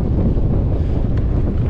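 Strong wind roars steadily across the microphone on a river in the Pantanal, a loud, constant rush with a low rumble and no voices.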